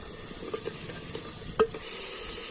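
Ginger paste and tomato fry in oil for a beef curry, a soft continuous sizzle under brief spoon scrapes and one sharper clink as the pan is stirred.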